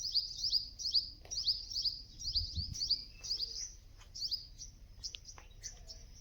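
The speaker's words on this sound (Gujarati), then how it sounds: "ગામડાનું સુંદર પક્ષીઓનું કલબલાટ" Village birds chirping and tweeting in quick, repeated bursts, fairly close and clear over a low rural background rumble, with no talking.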